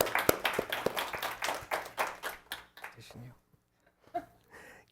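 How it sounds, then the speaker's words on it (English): A room at a board of education meeting gives a round of applause: a burst of scattered hand claps that thins out over a few seconds into a few last taps and quiet murmuring. "So, round of applause for Vice President Stewart."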